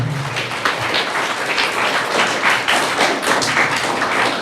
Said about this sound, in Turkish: Onları da bir alkışlayalım mı?